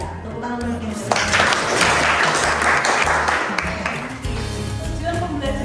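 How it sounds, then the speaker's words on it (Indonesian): Classroom applause for a student, a dense wash of many hands clapping together for several seconds, steady and fairly close, with a low background hum. "tepuk tangan untuk Angel"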